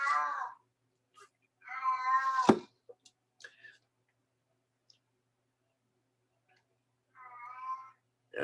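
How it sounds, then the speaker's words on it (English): A house cat meows indoors, with two drawn-out close meows early on and a third near the end, separated by silence and a few faint clicks. "I got a noisy cat."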